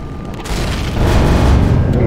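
Heavy explosions from turrets being shot out in the Empyrion Galactic Survival space game, a dense, loud rumbling boom that swells and sustains for about two seconds.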